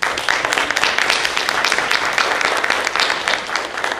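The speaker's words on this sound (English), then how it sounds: "That, my friends, is worthy of applause." An audience claps together in a continuous, even burst of applause, full and close, holding steady for several seconds without speech over it.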